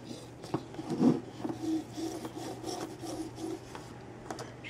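Paracord is drawn through a cobra bracelet knot close up, making soft, scratchy rubbing and rasping strokes with a stronger burst near the start, all fairly quiet and with no talking.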